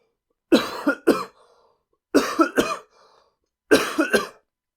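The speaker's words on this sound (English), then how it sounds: "The coughing fit is longer than the actual take." A person coughs in three separate bursts, each a harsh double or triple hack followed by a short wheezy breath, loud and close with silent gaps between.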